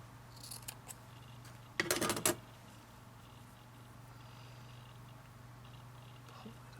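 Scissors snip through a small piece of cheesecloth during a Christmas tag craft session, a quick burst of cuts lasting about half a second, close and fairly loud against a quiet room with a low steady hum.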